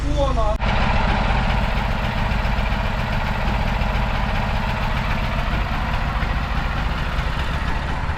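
Generator engine running in a war-damaged town where residents collect water, a steady loud low throbbing drone after a brief opening sound, with voices talking faintly over it.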